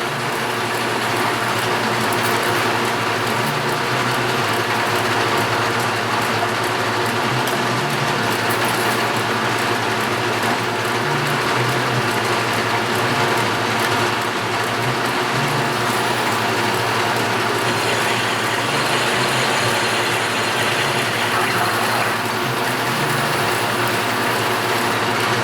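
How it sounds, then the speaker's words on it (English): A 90-degree gearbox turning with a continuous, dense ratcheting and gear-clicking rattle, steady and loud throughout with no pauses. "And this is a 90-degree gearbox."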